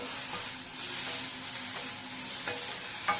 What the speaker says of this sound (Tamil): தக்காளி பச்சை மிளகாய் தான் நல்லா வதங்கணும்.